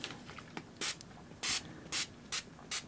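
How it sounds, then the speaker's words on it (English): Five short, sharp hissing sprays from a spray bottle misting a handmade card, evenly spaced with brief pauses between them, close and clear. "the last thing we're going to do is just spray it with this"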